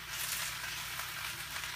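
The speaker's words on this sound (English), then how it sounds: "I'm going to just put the spinach over it, and I'm just gonna just kind of let it wilt down and cook it slowly" Fresh spinach wilting in a hot pan over a lemon garlic base, giving off a steady, even sizzle with bright crackling hiss throughout, close and continuous with no talking.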